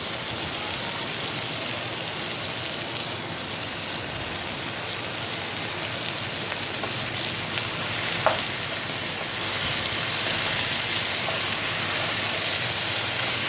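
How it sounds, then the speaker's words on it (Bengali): Amaranth greens (note shak) fry and get tossed in a pan, making a dense, steady hiss like heavy rain that fills the whole stretch, with one faint clink partway through. "শাকটা দেওয়ার পর উপর নিচ করে ভালোভাবে নেড়ে চেড়ে এটাকেও একটু যাতে নরম হয়ে যায় সেইভাবে একটু কষিয়ে নেব"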